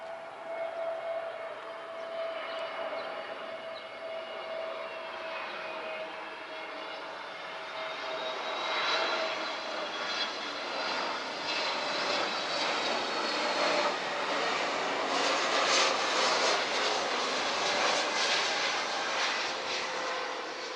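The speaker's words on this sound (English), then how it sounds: "this place is also my recommendation for airplane spotting" A fixed-wing airplane passes overhead near a shooting range in Malta, its engine roar steadily building and swelling with a whining tone that shifts in pitch, loud and continuous throughout with no talking.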